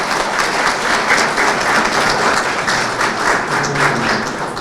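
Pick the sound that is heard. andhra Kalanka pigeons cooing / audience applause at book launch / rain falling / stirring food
audience applause at book launch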